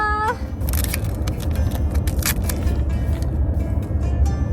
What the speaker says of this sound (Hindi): यहाँ पे गाड़ी कितना यूनिफॉर्म स्पीड में चल रहा है, कोई स्पीड ब्रेकर्स नहीं है